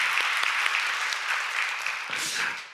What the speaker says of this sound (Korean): 우리 박수 한번 해볼까요?